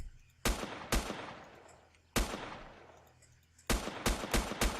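Gunshots in the survival video game Next Day Survival, sharp loud single shots with decaying echoes, spaced apart, then a quicker cluster of shots at the end.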